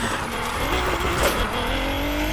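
A Nissan GT-R sliding through a handbrake drift in the racing game Need for Speed Heat, with a dense, continuous engine roar and tyre noise that stays loud and steady throughout.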